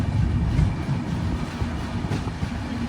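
AP Sampark Kranti superfast express from Tirupati to Kacheguda running slowly on a platform line, heard from on board as a loud, steady low rumble with faint rhythmic wheel clatter throughout.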